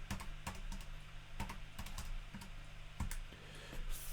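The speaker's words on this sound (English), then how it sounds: "I'll type that into my calculator as quick as I can" Rapid, uneven key presses as numbers are punched into a calculator, a handful of sharp clicks spread over a few seconds against a quiet background with no speech.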